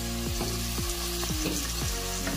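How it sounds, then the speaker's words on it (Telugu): Chopped tomato and coriander fry in a pan for mutton kheema pulao, a steady close sizzle with repeated scraping stir strokes throughout, no voices. "ఇదంతా బాగా మగ్గేంత వరకు ఫ్రై చేసుకోవాలి."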